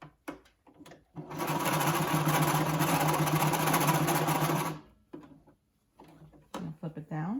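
A sewing machine stitching elastic onto a cloth face mask runs in one steady whirring burst of about four seconds, framed by short handling clicks and soft talk before and after.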